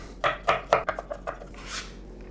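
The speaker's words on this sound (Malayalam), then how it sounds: "ജിഞ്ചർ നമുക്ക് കട്ട് ചെയ്തെടുക്കാം." A sharp knife chops ginger on a board for a Kerala-style beef fry, with a quick series of close, crisp knife strikes that grow lighter and softer toward the end.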